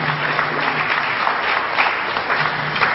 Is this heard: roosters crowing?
no